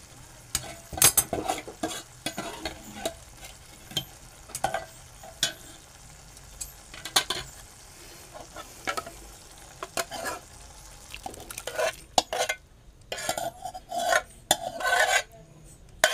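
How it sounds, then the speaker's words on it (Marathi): Masoor dal tipped into a pot that already holds potatoes, heard as close, scattered rustling and pattering with scraping, stirring sounds and a faint sizzle that turns busier toward the end, with no talk. "आता मी इथे पुरी मसुराची डाळ टाकत आहे"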